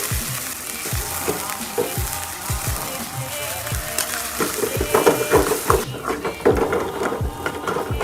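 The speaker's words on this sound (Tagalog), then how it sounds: "Painitan lang ang mantika at iluto sa high heat ang patatas" Potatoes frying in hot oil over high heat for a corned beef guisado, a loud steady sizzle and crackle with regular clacks of a utensil against the pan, close up throughout.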